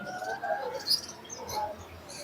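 Soft pigeon coos murmur at a moderate distance, with a few faint chirps mixed in and no speech.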